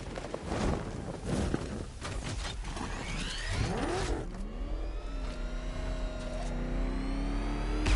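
A car engine in Batman: Arkham Knight revs and whirs with rising and falling pitch sweeps, then settles into a steady droning hum, with whooshing movement and no talking.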